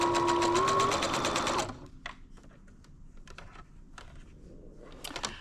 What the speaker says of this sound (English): So we're going to go sew these with a 1/4 inch seam.